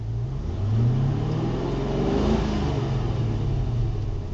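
A car engine revving from idle up through higher revs toward about 4,000 rpm, a steady loud rumbling drone that swells and eases slightly, no voices.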